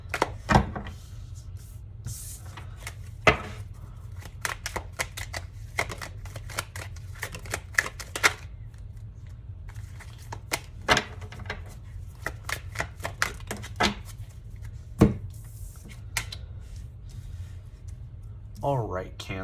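Tarot cards are shuffled in quick, uneven bursts of crisp riffling and tapping, with a steady low hum underneath and sharper clacks scattered throughout at close range.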